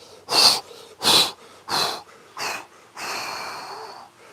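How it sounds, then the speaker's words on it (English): Four forceful, breathy exhales in a steady rhythm, each about half a second apart, followed by a longer drawn-out breath, close and clear with no talking, after a breath-hold squat during a fitness workout. "As soon as you have to breathe, a few forceful exhales on the way back up."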